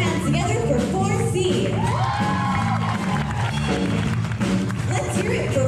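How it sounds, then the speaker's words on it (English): Steady applause with excited children's shouts and cheers fill an elementary school show after a dance number, a loud, crowded mix of clapping and high voices. "Put your hands together for 4C."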